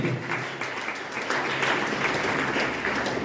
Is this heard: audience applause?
yes